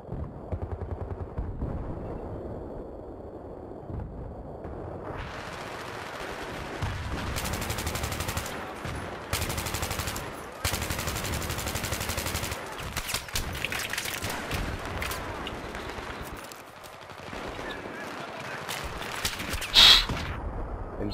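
Repeated bursts of automatic gunfire and heavy blasts from a Battlefield 3 multiplayer match, loud and close, coming in dense volleys separated by short quieter gaps.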